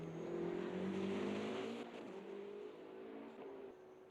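A Porsche race car in the GTL racing game at Sebring roars past, its engine tone high and strained before dropping as it moves away, with other car noise behind it and no talk.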